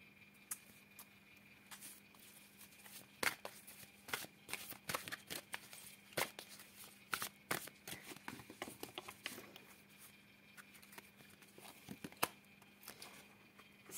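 Tarot cards are shuffled by hand in quiet, irregular bursts of soft riffling and papery slaps spread across the clip.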